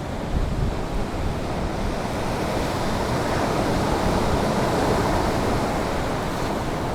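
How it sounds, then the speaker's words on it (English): Ocean surf at Dollar Cove in Cornwall, a loud, continuous roar of breaking waves mixed with gusting wind buffeting the microphone. "whoa, some nice waves."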